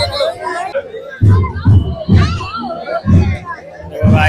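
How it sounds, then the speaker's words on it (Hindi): A crowd gathering at a Muharram gathering, a close mix of overlapping voices and chatter in a loud, steady babble. "ये देखो गाइस माशाल्लाह से अब भीड़ जमा हो रही है।"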